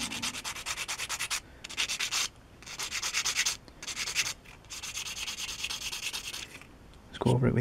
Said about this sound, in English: Let's go over it with your sanding stick.